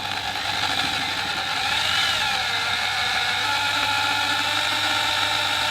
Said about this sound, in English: Okay, so we're going to start the drill.